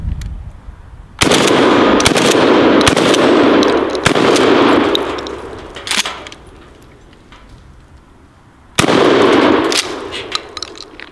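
A Mossberg 500 pump-action shotgun fires loud, close blasts: a long burst of sharp reports near the start, a quieter tail, then another heavy blast near the end, with no talking.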